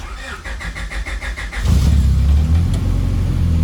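A Honda B series engine cranks with a rapid rhythmic starter whir, then fires and revs into a loud, steady mid-pitched roar, close to the listener.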